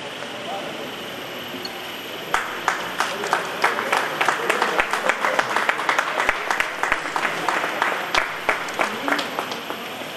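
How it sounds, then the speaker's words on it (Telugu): A crowd at a Telangana state road transport corporation accident-free week event bursts into steady, fairly close applause after a quiet start, with many hands clapping in a dense patter that carries on to the end. "big claps madam"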